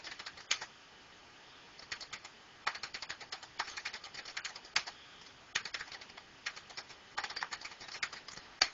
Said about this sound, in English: I'll type in locations, type in a few cities